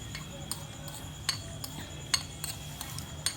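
A spoon stirs chaat masala and red chilli powder together in a bowl. Light, faint clinks and taps come at irregular intervals, close up, over a quiet kitchen background.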